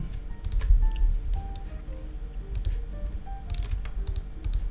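Keys on a computer keyboard clack in quick irregular bursts with a few scattered single presses, close and fairly soft over a low background hum, with no voices.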